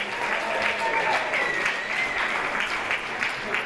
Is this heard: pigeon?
no